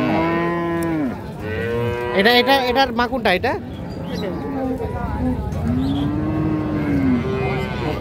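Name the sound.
Holstein Friesian dairy cow mooing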